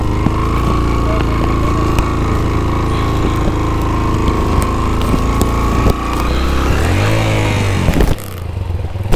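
A motorbike engine drones loud and close on a rain-soaked, muddy mountain trail near Jabba in Swat, revving up with rising pitch as the wheel spins, then cutting off abruptly near the end.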